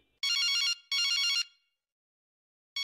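A telephone rings in two loud electronic bursts, then a pause before a third ring begins; nothing else is heard.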